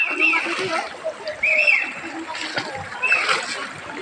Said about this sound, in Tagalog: pakita ko sa inyo yung tubig na dinadaanan ko